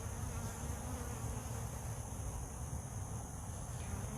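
Honey bees on a hive brood frame make a dense, continuous buzzing drone that is close and even throughout, with no talking.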